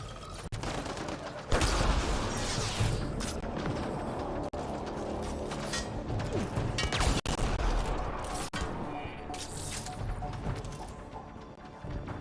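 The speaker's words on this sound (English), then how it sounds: "Reloading!" Weapon reload mechanism clicking and clacking in the sci-fi shooter Mass Effect: Andromeda, buried in a dense, loud barrage of continuous gunfire and impacts with sharp bursts throughout.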